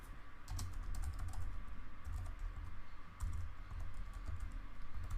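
Rapid, steady typing on a computer keyboard while entering code, with dense clicking keystrokes in continuous runs and a short pause midway, close and clear with no voices.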